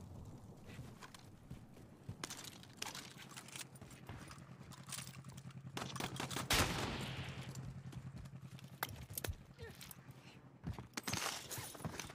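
Gunfire in the video game Warzone: scattered sharp shots and short bursts over a low steady hum, moderately loud, with no voices.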